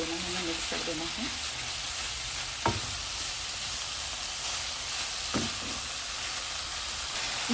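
Chicken coated in spice marinade is mixed in a bowl or pan, giving a constant wet, hissing stir texture with a couple of sharp utensil knocks spaced a few seconds apart; close and steady, with no talking.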